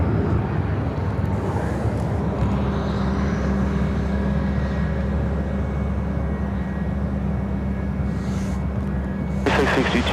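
A United Airlines Boeing 737 MAX 9 takes off at O'Hare with a loud, sustained engine roar and a deep rumble at steady strength. A few brief louder bursts come near the end.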